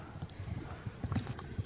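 A jumping horse's hooves clop in an uneven rhythm on the ground nearby, with a few louder stamps and soft snorting sounds and no talk over it.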